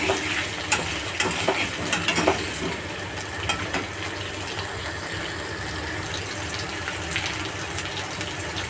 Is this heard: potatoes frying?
yes